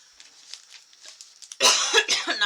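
A soft faint intake and throat sounds lead into a burst of loud, harsh coughing, several rough coughs close to the mic.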